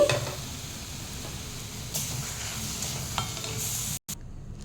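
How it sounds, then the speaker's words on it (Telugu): A chopped egg mixture stirred into a frying pan for Rayalaseema-style egg roti pachadi, a continuous low sizzle with scraping stirs throughout, ending in a brief cut. "ఇప్పుడు మనం ఆల్రెడీ ముక్కలు చేసుకున్న ఎగ్ మిశ్రమాన్ని కలిపేద్దామండి"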